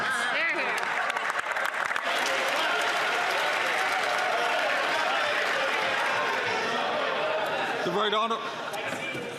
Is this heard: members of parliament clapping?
yes